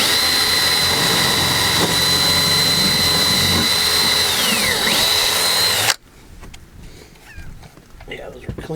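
A power drill bites into fiberglass during an onboard battery charger install, giving a loud, sustained high whine with a brief pitch dip near the end before it cuts off abruptly into quiet room tone.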